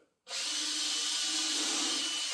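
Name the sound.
power drill driving screws into wood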